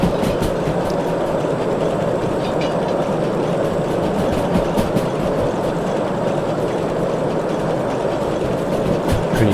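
A steam train in the railway game Derail Valley runs with a steady, loud rumbling roar and rhythmic clatter from the rails, continuous throughout with no talk.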